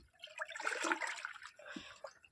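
Liquid pesticide is poured and stirred together for banana plants, giving a soft, splashy sloshing of water that swells and fades over a couple of seconds, moderately close and fairly faint.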